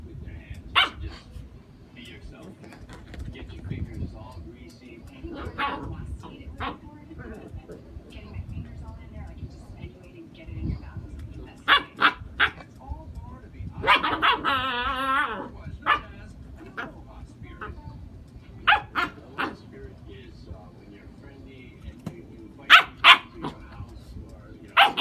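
A puppy lets out scattered sharp barks and yips, sometimes in quick clusters, close and loud, while a person talks to it and at one point imitates barking.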